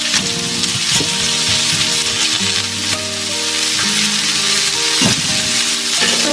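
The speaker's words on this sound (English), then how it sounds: "you don't need to cook it too much, you just need to brown it each side." Pork ribs brown in a hot frying pan, sizzling loudly and steadily throughout, with occasional clatter and scraping as the pieces are turned and moved.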